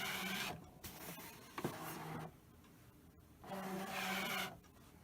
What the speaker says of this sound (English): So I'm going to load the mat into the machine.